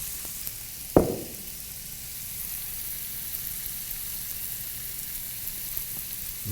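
Cannellini beans and pancetta sizzle steadily in a hot pan, a constant bright frying hiss with one sharp knock near the start, heard alone at close range.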